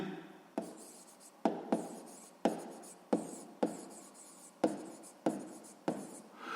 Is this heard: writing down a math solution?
yes